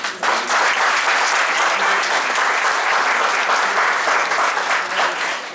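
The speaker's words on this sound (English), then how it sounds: "A big round of applause for this gentleman" Conference audience at a valedictory session giving a big round of applause for a guest, dense sustained clapping from a full room, loud and even throughout with no pause.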